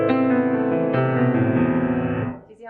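A simplified right-hand piano run moves through a chain of sustained, ringing notes in steady succession, solo and close, before the last chord dies away.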